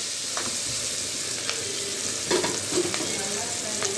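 Onions frying in a pan for Andhra-style chicken curry, a steady dense sizzle up close with occasional stirring scrapes and light clinks.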